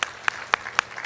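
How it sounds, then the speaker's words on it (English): Audience at a Bharatanatyam Arangetram dance performance applauding the makeup artist: four or five sharp, evenly spaced claps over a brief moment, fairly faint and without talk. "She deserves a big round of applause."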